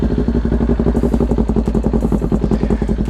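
A motorcycle fitted with a LeoVince LV-10 carbon fiber exhaust idles with a raspy, throaty exhaust note, steady rapid pulsing at close range with no talking.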